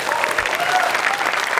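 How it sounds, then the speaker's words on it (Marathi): A studio audience at a Marathi comedy show claps loudly after a dance performance, a thick steady wash of applause heard up close with no pause. "एकदा जोरदार टाळ्या या बहारदार परफॉर्मन्ससाठी"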